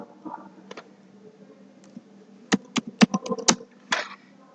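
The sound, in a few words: typing on a computer keyboard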